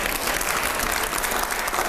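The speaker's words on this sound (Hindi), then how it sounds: "जोरदार तालियां" Audience applause at a televised Hindi debate with five editors, a steady dense wash of clapping from a crowd, loud and continuous with no talk over it.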